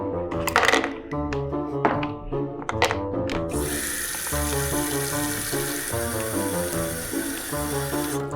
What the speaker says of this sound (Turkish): Şuradaki emziği çıkartıp güzelce yıkayalım.